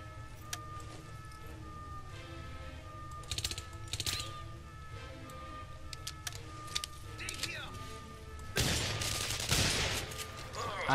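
Gunfire in the video game The Saboteur comes as scattered sharp shots and a dense burst of rapid firing near the end, set against a steady game background hum, with some speech mixed in.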